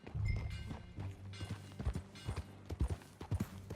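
Horse hooves clip-clop in an uneven trotting rhythm while riding in the video game Red Dead Redemption 2, close and fairly soft, with a low rumble at the start.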